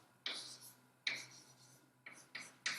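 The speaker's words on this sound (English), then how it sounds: "let me just write a remark" Chalk strokes on a blackboard during a complex analysis lecture, five short scratchy marks in an irregular rhythm, fairly close and quiet over a faint room hum, with no talking.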